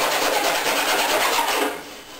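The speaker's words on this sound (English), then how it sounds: "I took out one old file that I had, a fine file, and that works too. Just go along the edge" A fine metal file rasps steadily along a fiberglass seam edge, close and continuous in quick back-and-forth strokes, easing off near the end, with no talking.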